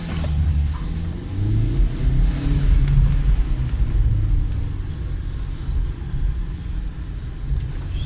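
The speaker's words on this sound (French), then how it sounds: "J'espère que vous avez apprécié le bruit démoniaque de ce 4 cylindres." Renault Kangoo RS with a four-cylinder engine, a deep continuous rumble swelling and easing as it is revved, loud and close throughout with no voices.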